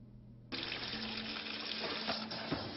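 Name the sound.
flammable tap water running from a faucet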